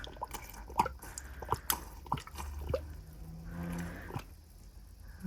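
Liquid resin pours into a mixing cup sitting on a scale, a soft, continuous trickle and a few drips, quiet and close, with light handling clicks around it.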